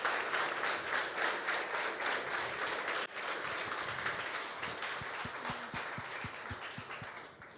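A church congregation gives sustained applause during a worship service, a broad wash of many hands that holds steady and later thins into a few clearer, rhythmic claps near the end.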